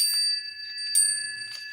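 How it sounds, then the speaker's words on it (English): Crystal bells and charms ring out in a few light strikes, each leaving a bright, sustained shimmer that lingers close by and fairly quiet, with no voices over them. "I love my bells and charms and stuff."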